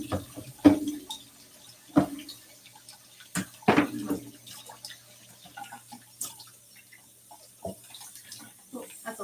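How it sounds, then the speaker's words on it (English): Rice cooker pot being washed under a running kitchen tap, with splashes, clunks and knocks against the sink over a soft trickle of water. "I'll go ahead and wash this rice cooker"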